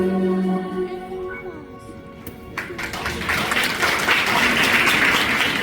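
Audience applause for children after a grade 6-8 Sunday school skit at church. A sung hymn fades out, then dense, steady clapping fills the room and continues to the end.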